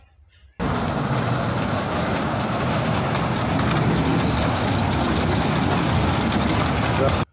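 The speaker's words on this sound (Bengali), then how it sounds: "ঝকঝকাচা চলতেছে ট্রেন, মজা পাচ্ছে আপনার শিশু" A children's dragon train ride at a village fair rumbles continuously and loudly after a brief quiet start, with steady mechanical engine noise and crowd voices mixed in.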